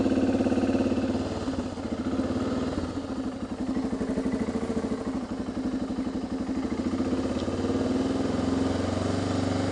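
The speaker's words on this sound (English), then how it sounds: "There goes the engine again." A motorcycle engine on an overland ride in Greece runs near the entrance gate to Monemvasia, chugging in a rapid, steady rhythmic pulse with a rough clattering edge that carries on throughout.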